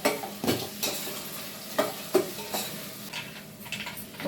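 Mustard seeds and broken dried red chilies sizzle and pop in hot oil, close by, with a steady fry broken by several sharp crackles and utensil taps.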